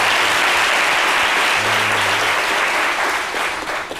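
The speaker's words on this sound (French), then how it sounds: "que je demande franchement d'applaudir parce que Big Joe," Steady audience applause fills the room, a dense wash of many hands clapping continuously at a fairly close, loud level, thinning slightly toward the end.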